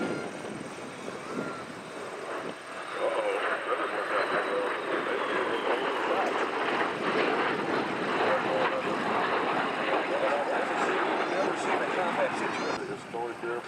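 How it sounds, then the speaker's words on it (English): A historic propeller airplane flies over the 2017 Selfridge 100 Years airshow, its engine drone rising and holding steady at a distance while an announcer talks over the crowd. "Historic airplane."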